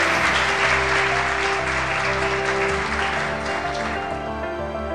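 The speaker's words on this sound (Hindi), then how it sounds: "जोरदार तालियों से स्वागत करें" Loud, sustained applause from an audience at an education awards ceremony, steady dense clapping welcoming an honoree, with background music underneath and tapering slightly toward the end.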